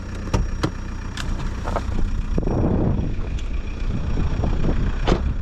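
A VW Bora 1.9 TDI diesel, 85 kW, runs smoothly at a steady hum with wind buffeting the microphone and a few sharp knocks and clicks nearby.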